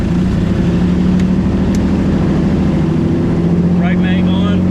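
Twin Bonanza piston aircraft engine, the left engine started first, settles into a loud, steady, close droning rumble that holds evenly throughout, with faint voices in the background.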